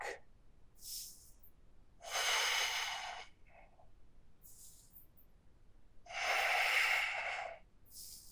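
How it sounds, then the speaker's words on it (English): Slow, deep breaths taken during a core-building yoga session, with two long, airy breathing sounds spaced several seconds apart, close and fairly soft, with no talking. "you're engaging your core. Breathing deep."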